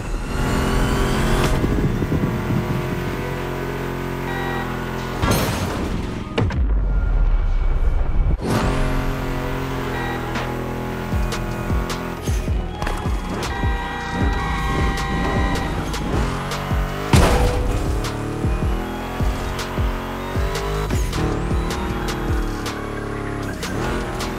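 Ford Mustang GT muscle car engine in The Crew Motorfest, loud revving through gear changes with rising and falling pitch, a brief roaring surge midway, and some tire noise, under a layer of game music.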